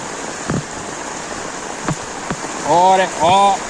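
Heavy rain falls steadily on a flooded street near Kopar station in Dombivli East, a constant wash of water with brief splashes, while a voice speaks over it toward the end.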